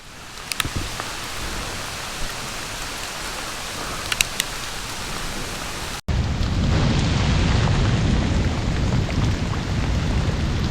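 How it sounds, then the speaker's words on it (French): Hail comes down on an Alpine trail, first as a hiss with scattered sharp ticks, then a sudden, much louder dense roar of pelting ice that holds steady to the end. "Et non mais il grêle"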